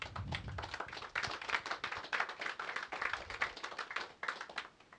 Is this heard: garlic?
no